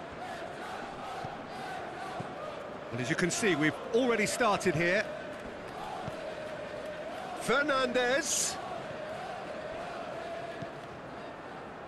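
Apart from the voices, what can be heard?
crowd noise in a football video game stadium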